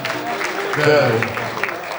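Audience applause at a gathering honoring a zurna and balaban player, a dense wash of clapping that swells near the middle of the two seconds, with someone talking over it throughout.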